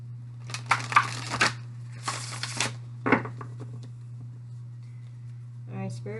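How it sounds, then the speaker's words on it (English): Tarot cards shuffled by hand in a few quick, rustling bursts close to the microphone over a steady low hum, with a brief voice near the end. "one shuffle for the overall"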